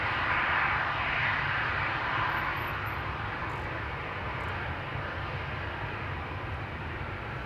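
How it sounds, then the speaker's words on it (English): A Boeing 737 jet departs at Amsterdam Schiphol, a steady broadband engine rumble and hiss that is moderately loud and slowly fades, with no voices. "737 to Nice is coming this way"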